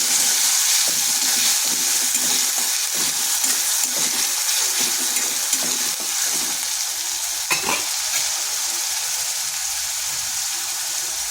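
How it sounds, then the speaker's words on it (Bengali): Grated onion frying in a pan with cinnamon and cardamom, a steady close sizzle with soft stirring scrapes throughout and one brief sharper crackle near the end. "দিচ্ছি গ্রেট করে রাখা পেঁয়াজ, একটা পেঁয়াজকে গ্রেট করে নিয়েছিলাম।"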